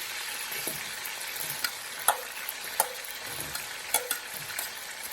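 Capsicum stir-fries in a hot pan for Arabian rice, a steady soft sizzle broken by scattered sharp clicks and scrapes of a spatula at irregular intervals.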